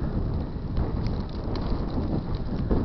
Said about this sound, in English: Wind has really picked up.